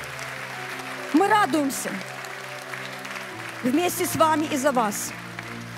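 Church congregation applauding in two bursts while someone speaks over the clapping.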